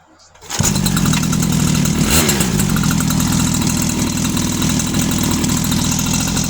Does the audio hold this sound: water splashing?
no